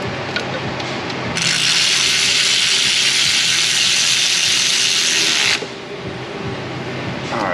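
Torque tool working on fasteners of a 2003 Ford Mustang GT 4.6 engine during an accessory overhaul, a loud steady whirring rasp lasting about four seconds with quieter workshop noise before and after.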